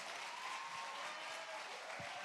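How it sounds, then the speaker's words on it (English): A crowd applauds as a speaker walks onto the stage, a continuous, even wash of clapping that sounds distant and fairly soft throughout. "Could you give a big round of applause for Mr. Ryan Dunlap as he makes his way out"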